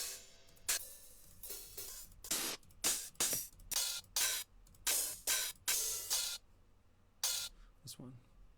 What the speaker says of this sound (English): 2 totally different hi-hats, so we should get a really nice stereo feel